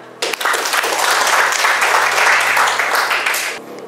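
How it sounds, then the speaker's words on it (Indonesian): Classroom applause from students, a burst of clapping that starts abruptly and runs steadily for about three seconds before tapering off, close and fairly loud with no talking over it. "Oke, tepuk tangan."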